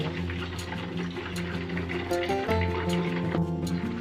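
Pork belly for lechon kawali crackles and spatters in hot cooking oil in a covered pan, a dense steady sizzle with scattered pops throughout, with a faint hum underneath.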